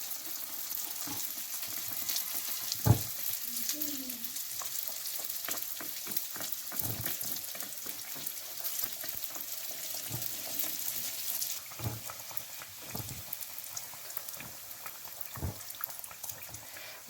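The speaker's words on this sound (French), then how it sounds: "après avoir formé nos beignets, on les met dans l'huile bouillante" Chocolate-filled beignets frying in boiling oil, a soft continuous sizzle and crackle with scattered pops and small clanks from the pan, close and fairly quiet.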